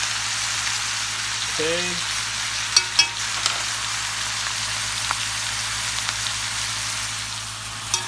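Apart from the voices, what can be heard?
garlic and onions sizzling while frying in a pan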